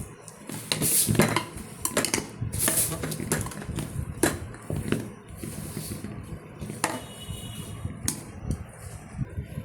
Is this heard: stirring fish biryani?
yes